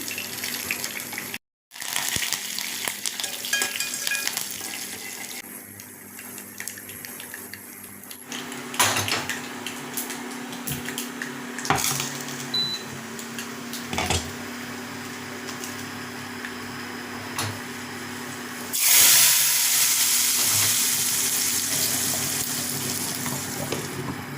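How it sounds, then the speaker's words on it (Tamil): Oil sizzles and crackles steadily in a pan as mustard seeds, urad dal, fenugreek, onion, curry leaves and dried red chilli temper for fish curry, with occasional clinks of utensils and a louder burst of frying toward the end. "கடுகு உளுந்தம்பருப்பு வெந்தயம் ஒரு வெங்காயம் கருகப்பில் எல்லாம் போட்டு நம்ம தாளிக்க போகிறோம்"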